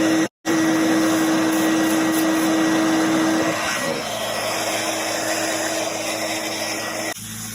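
A heat gun warms a motorcycle fuel tank to soften adhesive, giving a steady whirring blower drone with a tonal hum, a brief cutout near the start, then continuing evenly.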